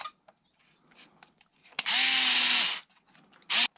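A power drill drives a gold screw into the front end of an Arrma Felony RC car under repair, with a short whirring run followed by a brief second burst amid small handling clicks.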